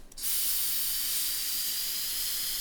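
Steady airbrush hiss of paint spraying onto a skull from a double-action airbrush, starting abruptly after a brief pause and holding a continuous, close, even spray with no talking.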